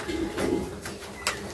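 Household pigeons coo softly in low murmuring calls with a few brief sharp sounds, heard close by against a steady background.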